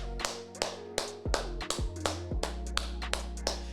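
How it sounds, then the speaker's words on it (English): Hands clap in an uneven rhythm, several sharp, close claps and taps spaced irregularly, with no crowd behind them. "Round of applause to the Tigers"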